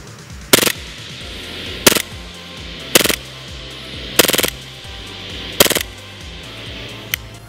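Five separate short bursts of rapid fire from a Stark Arms S19 Combat airsoft gun on full auto, each a quick rattling volley with pauses between, then a single faint final shot.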